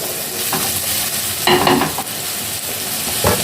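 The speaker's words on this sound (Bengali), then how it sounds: "পেঁয়াজটাকে আগে ভালো করে ভেজে নিতে হবে" Onions frying with salt and turmeric in a clay pot, a loud, dense, steady hiss with a brief surge of scraping as the spoon stirs midway.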